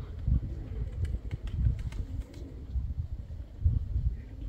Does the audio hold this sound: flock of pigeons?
yes